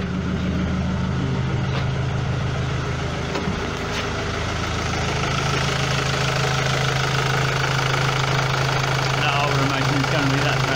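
A 2007 Ford Mondeo 2.0 TDCi diesel engine with excessive smoke idles steadily and close up, a continuous low rumble with faint knocking throughout and a brief lift in tone about a third of the way in.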